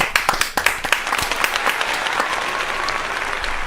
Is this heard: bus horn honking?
no